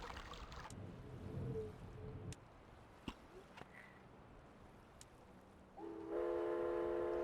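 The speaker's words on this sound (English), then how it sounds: "That's a train!" In the Myst remake video game, a train rumbles past and then sounds a horn-like tonal blast at the end, with mechanical clanks scattered between.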